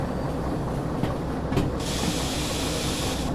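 Air brake hissing on a train in the railway simulator game Derail Valley, a bright sustained hiss that starts partway through and holds steady over a low rumbling ride noise, fairly loud and close.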